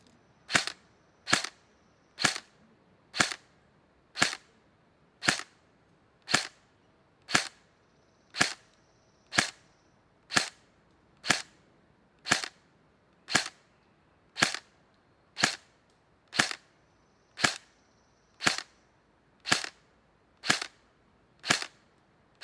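Classic Army CA4A MK18 M4 airsoft gun firing single shots outdoors toward a distant target, about twenty sharp snapping cracks at a steady, even pace, each crisp and clear against a quiet background.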